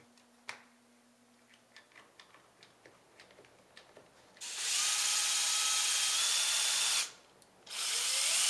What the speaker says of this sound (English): I'm using a pocket drill bit because this is a table surface